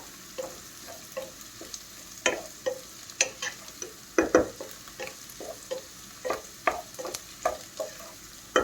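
Beaten egg is stirred into fried rice in a hot pan, with repeated scraping strokes of a spatula over a soft continuous sizzle, close and without speech.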